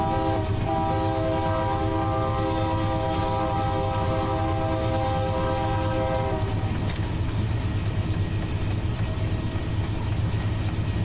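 Locomotive in the Run 8 Train Simulator game running on the BNSF Fresno to Bakersfield route, a steady loud rumble with sustained horn-like tones for the first six seconds, then continuous engine and rail noise alone.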